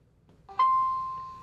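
An iRobot Roomba Vac 2 gives a single bright electronic chime as it connects to Wi-Fi: a short rising tone, then a clear sustained ring that slowly fades in a quiet room.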